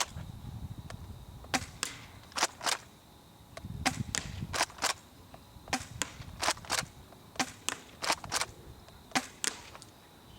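A Double Eagle M56C tri-shot airsoft shotgun firing 0.23 gram BBs at a target, with sharp snapping shots and pump clacks in irregular pairs over about ten seconds, close and clear.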